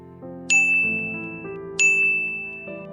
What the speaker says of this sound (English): The crystal-clear ringing of the bells hangs in the stale air of the otherwise quiet shop